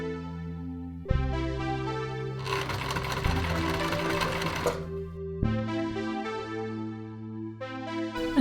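A sewing machine joins green suit fabric panels with a close, rattling burst of stitching in the middle, framed by steady tonal music before and after.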